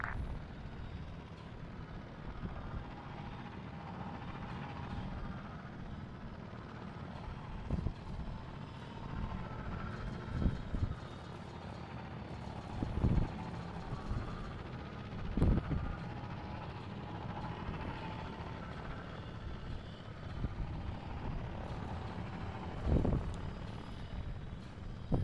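An aircraft in the video game Arma 3 makes a slow orbiting landing on a beach defense mission, a steady rotor-like engine drone with periodic thumps, moderately loud and continuous with no talk.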